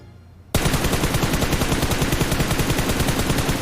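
Sustained automatic gunfire fills a BGMI battle, erupting suddenly after a quiet moment into rapid, dense bursts that continue loud and steady, like several weapons firing at once in a close fight.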